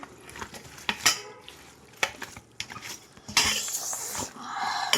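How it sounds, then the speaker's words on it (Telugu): Raw chicken being mixed by hand with chili powder, salt and turmeric for Bhimavaram-style gongura chicken: wet, squelchy stirring and clinking against a bowl, with a few sharp knocks, close and moderately loud, no talking. "దాంట్లో కారం, సాల్ట్, కొంచెం పసుపు వేసుకొని శుభ్రం కలిపేసుకోవాలండి"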